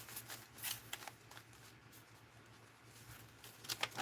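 Paper index cards being handled and shuffled at a crafting table for an art journal, giving soft crisp rustles and flicks in short bursts, close up and quiet over a low steady hum.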